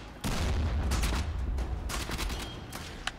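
Gunfire and a grenade blast in the video game Warframe: a heavy boom opens into a dense, loud burst of rapid shots with scattered sharp cracks and a final single pop, no speech.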